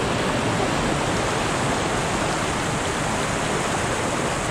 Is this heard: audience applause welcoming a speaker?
no